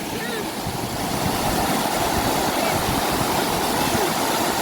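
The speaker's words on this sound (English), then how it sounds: "That's some rushing water there" Rushing mountain river water roars steadily and loudly throughout, a dense continuous wash of turbulent flow with no break and no talk over it.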